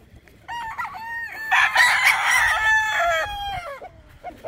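A rooster crows on a farm in Batangas, one long full cock-a-doodle-doo rising and falling over several seconds, close and loud with faint background noise.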